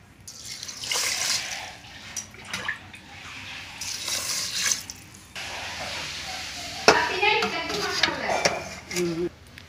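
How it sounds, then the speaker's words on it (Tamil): Water pours onto uncooked rice in an electric rice cooker, a splashing, trickling stream that comes in several bursts across the clip, close and moderately loud. "இதுக்கு ஆறு டம்ளர் தண்ணி நாங்கள் வந்து ஆட் பண்ணிக்கிறோம்."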